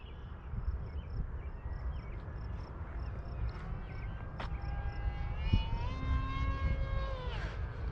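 Stinger T-750 RC airplane in flight, its engine a steady buzz with a thin whine that shifts pitch as the throttle changes, heard from a moderate distance under outdoor wind noise.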